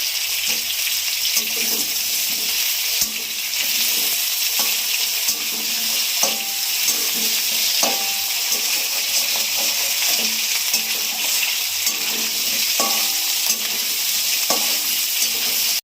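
Ginger paste frying in a pan for a radish, potato and puti fish curry, giving a steady close sizzle with irregular scraping stir strokes throughout, no talking.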